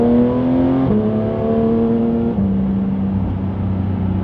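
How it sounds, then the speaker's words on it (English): A Porsche GT3 fitted with a Sharkworks exhaust system drones loudly and close by with a smooth, steady engine note, its pitch dropping in two distinct steps as the car shifts gears. "how noisy it is and how good that exhaust note sounds"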